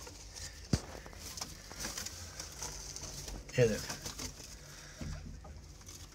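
Pigeons in a loft coo softly and shuffle about, faint low calls and light fluttering heard close by, with someone talking over them.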